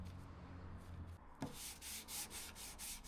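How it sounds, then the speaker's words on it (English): Glued 2x4 wood lightly sanded by hand, quiet rhythmic rubbing strokes, faint and close, growing a little more distinct partway through, with no talking. "sand over everything. Just give it a bit of a sort of rusticy vibe to it, and it just sort of cleans it up a bit."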